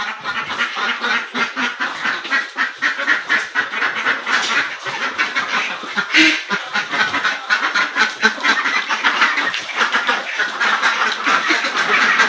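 A flock of domestic desi ducks on a small egg farm quacks loudly and close without pause, the calls overlapping in a dense, busy chorus with no talking.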